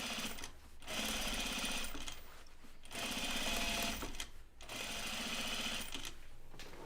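Sewing machine stitching a seam on jeans, running in three sustained bursts with brief pauses between, close and fairly loud with a steady mechanical whir.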